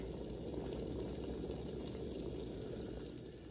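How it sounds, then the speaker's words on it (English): Water at a rolling boil in a Stoke Voltaics portable travel electric kettle, a continuous bubbling rumble with a steady hiss, close and fairly loud. "I hear it's boiling and I see the steam coming up"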